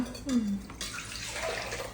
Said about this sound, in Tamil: அப்போது நம்ம 2 கப்பு தண்ணி சேர்த்துக்கலாம்.